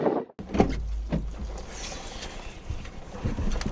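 Strong wind buffets the microphone in very bad weather beside a 2019 Porsche 911 992 Carrera 4S, a loud, continuous roar with low rumbling gusts that swell and ease throughout.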